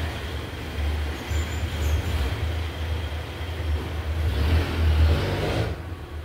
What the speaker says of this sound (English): I don't know why the jeepney stopped there at some point sa harap ng bahay namin, and then umalis rin naman.